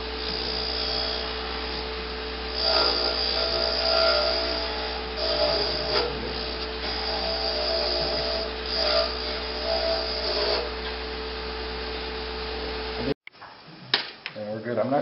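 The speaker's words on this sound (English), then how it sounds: "switch to the detail gouge." A wood lathe turns a finial as a detail gouge cuts it, giving a steady close whine with rougher bursts where the tool bites. It stops abruptly near the end, followed by brief handling noises.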